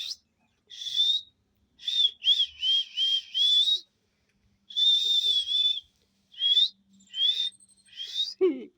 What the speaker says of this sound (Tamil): எனக்கு தெரிஞ்ச மாதிரி நான் விசில் அடிக்கிறத பார்க்கலாமா?